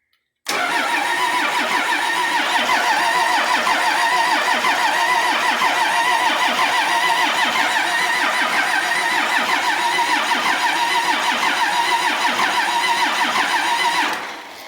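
A Cummins engine, swapped in after sitting outside nearly three and a half years, is cranked by its starter in a steady, rhythmic churn that runs loud and close for about fourteen seconds, then cuts off without catching.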